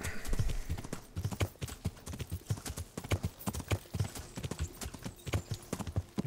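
Horse hooves clip-clopping in Kingdom Come: Deliverance, a steady run of close, loud hoofbeats that continues throughout with no talk over it.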